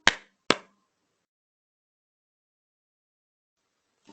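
Hand claps in a children's song about loving your aunts, two sharp, crisp claps in quick succession, then near silence and a faint third tap at the end.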